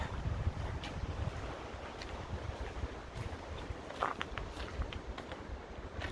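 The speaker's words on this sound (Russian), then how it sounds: "Ветер." Steady rushing spring wind roars broadly through a forest, with faint creaks and light knocks of swaying trees and falling branches scattered through it; no voices.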